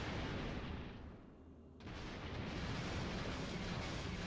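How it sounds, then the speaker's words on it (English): In X-Wing Alliance, the ship Vasudra explodes as a loud, sustained roaring blast that fills the whole clip, dipping briefly in the middle before surging back to a steady rumble. "That's the Vasudra going kaboom"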